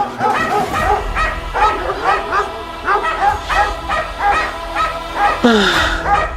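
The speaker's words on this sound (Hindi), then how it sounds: "अरे गेट खोलो, कुत्ते पीछे पड़े हैं।" Dogs bark and yip repeatedly in a rapid, agitated series as they chase someone, loud and close, with a whimper and a honk-like sound near the end and people talking over them.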